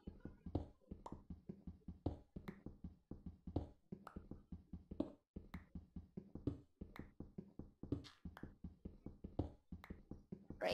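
Rapid clicky digging and block-breaking taps in a 2D crafting game, a busy irregular stream of short knocks and crunches, quiet and close, with no talk.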